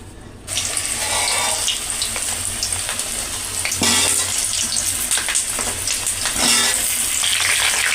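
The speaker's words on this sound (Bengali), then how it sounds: "এবার একটু সাদা তেলের মধ্যে একটু ঘি দিয়ে দেবো। ব্যাস একটু ঘি দিয়ে আলুটা ভেজে নেব।" Potatoes frying in a mix of white cooking oil and ghee, a steady, loud sizzle and crackle with occasional stirring clatter, continuous throughout.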